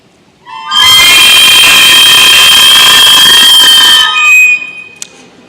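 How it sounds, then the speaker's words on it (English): Many shrill, off-key recorder notes from fourth-grade children on their first day blare together in a loud, wavering screech for several seconds, then stop abruptly. "we were ready to learn how to play the recorder"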